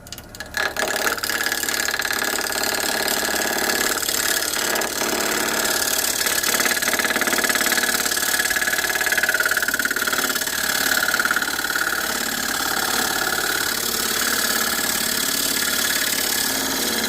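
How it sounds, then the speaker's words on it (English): A gouge takes a cleaning pass across the end of spinning olive wood on a woodturning lathe, a loud, continuous, close hiss and rumble with a steady motor whine under it. "I am going to very gingerly try to take a cleaning pass on the end of it."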